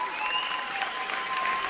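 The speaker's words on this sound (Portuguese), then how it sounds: "Aí, aplaude aí, galera. Aplaude aí que valeu a pena." Audience at an ISKA 55kg world title kickboxing fight breaks into steady applause, dense and continuous throughout, with a faint tonal whistle or hum running beneath the clapping.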